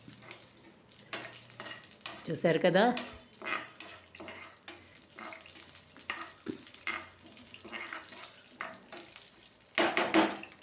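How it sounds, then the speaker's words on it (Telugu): Tempering spices fry in a pan with soft sizzling and stirring scrapes, quiet and intermittent, heard under a woman's speech that comes and goes. "ఇక ఈ పోపు దినుసులు ఇవి వేగనిస్తాను ఎర్రగా"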